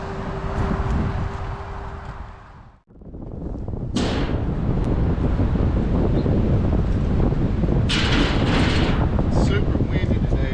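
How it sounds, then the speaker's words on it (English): Strong wind buffets the microphone in loud, roaring gusts, briefly dropping out before surging again, with faint mumbled talk buried in the noise. "Super windy today, man"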